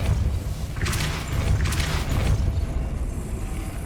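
A Depulso spell blast in Hogwarts Legacy lands as a deep, booming rush over a low rumbling bed, with two bright whooshing surges close together.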